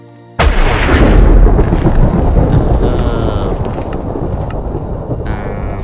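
Lightning strikes with thunder in Minecraft, modded with Chaos Power Scrolls: a sudden loud crack bursts in, then a heavy rolling rumble fills the rest, slowly easing off with faint crackles at the end.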